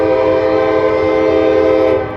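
Locomotive horn sounding loud and close in one long sustained blast with steady harmonic chords, on a heritage-painted lead unit of a long freight train, holding throughout and tapering slightly at the end, with no talk.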